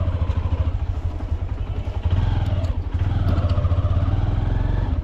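Two-wheeler motorcycle engine running steadily while riding along a rough, potholed rural road through a grove, a loud continuous low drone with some clatter throughout.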